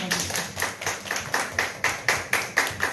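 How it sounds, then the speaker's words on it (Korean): A congregation at a high school church worship service claps in quick, even rhythm, about a dozen sharp group claps at a steady pace, fairly close and clear with no talking. "박수."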